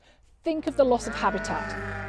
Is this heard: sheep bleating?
yes